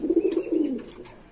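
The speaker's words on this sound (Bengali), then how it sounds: "নরের ডাকটা দেখাচ্ছি" A male satin pigeon in a cage gives one near, clear, rolling coo that lasts about a second and stands alone without talk.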